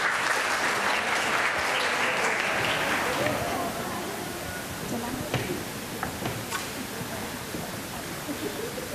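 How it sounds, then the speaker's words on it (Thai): Audience applause welcomes teachers at a Thai university-entrance event, a dense clatter of many hands that starts strong and eases into a softer, steady patter with scattered sharper claps. "ขอเสียงปรบมือให้กับอาจารย์ได้เลยค่ะ"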